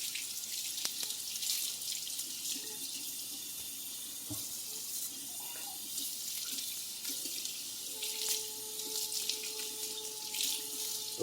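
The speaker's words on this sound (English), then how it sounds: "I'm going to run them through some water here real quick." Tap water runs steadily into a sink over leek tops being rinsed, a soft continuous hiss with faint splashes and a few small knocks, fairly quiet throughout.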